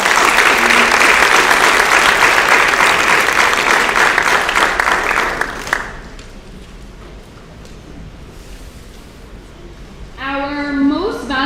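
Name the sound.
auditorium audience applause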